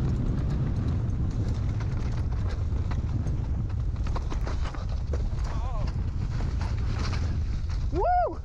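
Strong wind buffets the microphone steadily on a rough mountain bike trail ridden on a hardtail bike, a loud continuous low roar with rattling and rolling noise, and a brief whoop near the end.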